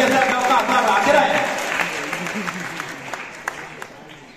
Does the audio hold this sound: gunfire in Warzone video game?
no